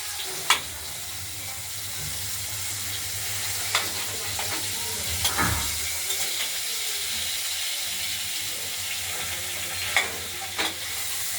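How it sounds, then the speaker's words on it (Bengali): Tomatoes frying with spices in a pan beside potatoes for a rohu fish curry, a steady soft sizzle and hiss with occasional spatula scrapes and clinks, fairly quiet and close. "টমেটো দিয়ে দিলাম কিছুটা, এটা আমরা ভেজে একদম মশলার সঙ্গে মিশিয়ে দেব।"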